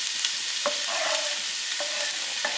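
Chopped onion sautés in extra virgin olive oil in a large pot for a crab cioppino, giving a steady close sizzle with a few light stirring clinks and scrapes over about three seconds, no voices.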